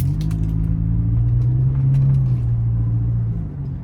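A 2009 Nissan Altima coupe idles and creeps along a lot, its exhaust giving a steady low rumble with a faint mechanical hum, close and continuous with no talk.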